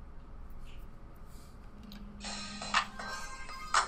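A phone ringtone starts partway through and repeats twice as a bright electronic tone over quiet room noise, during a card game duel commentary.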